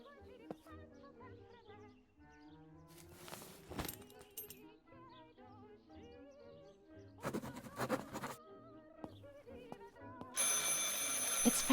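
Telephone ringing in the video game Martha Is Dead, with tonal ringing and musical sounds amid game ambience, building louder toward the end.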